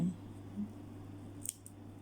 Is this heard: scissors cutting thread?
yes